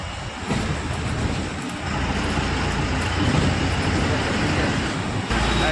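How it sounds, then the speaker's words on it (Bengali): A loud, continuous rumble of a metro train passing close overhead, broadband and sustained, with traffic noise mixed in. "ওই জায়গায় ট্রেন যাচ্ছে উপর দিয়ে মেট্রো চলে গেল"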